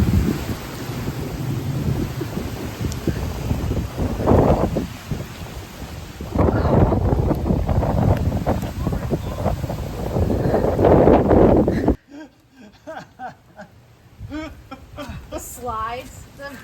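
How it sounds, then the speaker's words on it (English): Strong Hurricane Milton wind gusts in Tampa buffet the microphone in loud, roaring surges, then drop away to a quieter stretch with a voice speaking. "Winds have started gusting a little bit"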